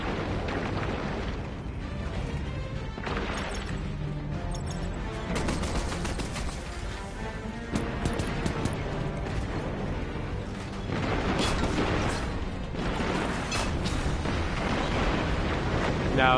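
Red Legion tanks in Destiny 2 produce heavy, booming blasts and rumbling bursts. The dense combat noise runs continuously, swelling louder in the second half, with no voices.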